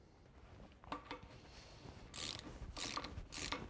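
A ratchet tightens the flange bolts on a Land Rover 90 swivel joint, giving three sharp, close bursts of rapid pawl clicking after a few lighter mechanical knocks, with no talking.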